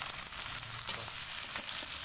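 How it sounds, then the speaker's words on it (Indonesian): Boiled, peeled green mussels go into a hot pan and sizzle, a steady close frying hiss with small crackles and no talking. "Lalu ini akan saya masukkan kerangnya."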